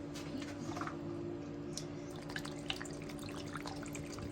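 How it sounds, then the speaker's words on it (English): Faint trickle and drips of water poured into peat pods in a greenhouse, under a steady low hum, soft and close, with no voices. "Pour some more water in these"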